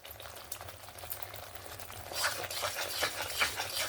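Yogurt is stirred into a spicy masala of potato and cauliflower over a low flame, with soft bubbling and wet stirring that grows louder and busier partway through.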